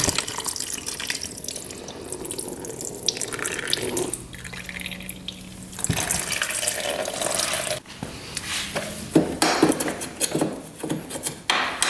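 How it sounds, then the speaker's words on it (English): Coolant draining out of a quad (ATV) engine during teardown, a steady close splashing trickle of liquid with occasional clunks and handling noises, no talk. "Let's get the coolant out of here."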